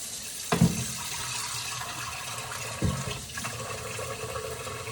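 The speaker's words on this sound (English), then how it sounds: "wash my hands here" A kitchen faucet runs steadily during handwashing while making salsa verde, with a couple of brief splashes and knocks over the constant water flow.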